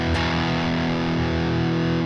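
An electric guitar runs through a distortion pedal with bass boost on a Tone Master Pro modeler, giving a thick, heavily saturated sustained chord that rings continuously at steady loudness after a brief attack.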